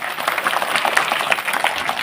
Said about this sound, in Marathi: एकदा जोरदार टाळ्या त्यांच्यासाठी वाजवा